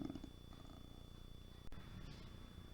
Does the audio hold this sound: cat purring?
yes